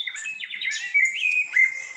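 Bird song heard in a forest, a clear, close run of quick chirps and high whistled trills that rise and fall, heard alone without talk.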